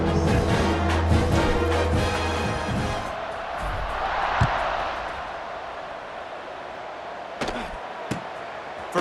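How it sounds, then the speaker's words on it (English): A stadium crowd roars at kickoff in the college football video game NCAA College Football 26, a broad loud cheer under musical tones that fades into a steady murmur, broken by a few sharp thumps. "this crowd now ready to get behind them."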